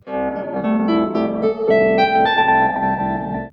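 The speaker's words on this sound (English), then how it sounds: "Then I'm going to send my harp through the Chase Bliss Lossy." Plucked harp notes ring out in a quick melodic run through a Chase Bliss Lossy lo-fi pedal, colored by a gritty, slightly degraded effect, close and clear without any speech.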